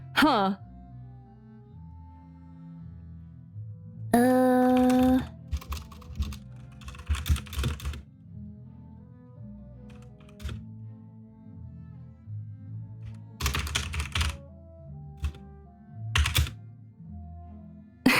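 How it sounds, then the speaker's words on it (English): Keys clatter on a computer keyboard in quiet, uneven bursts, separated by near-silent pauses and a few louder thunks, close and fairly soft. "Are you not entertained by silence and typing?"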